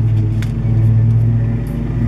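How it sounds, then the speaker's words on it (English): A steady, loud engine drone rumbles continuously nearby, a lawn mower running without letup and no voices. "that yard really needs to be mowed."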